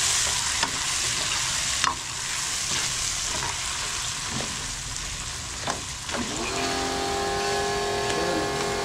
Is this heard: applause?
no